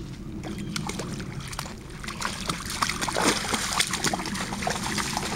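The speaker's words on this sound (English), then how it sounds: "Here's the sound of the water." Creek water flows and trickles steadily nearby while a Siberian Husky moves through it, with occasional splashes and sloshing over a continuous low rush.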